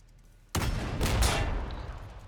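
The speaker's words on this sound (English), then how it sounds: "Take our long-range cannon first." A long-range cannon firing sound effect, as used in a Warhammer 40K tabletop battle: a sudden sharp blast after a short quiet lead-in, followed by a sustained, roaring crackle of fire.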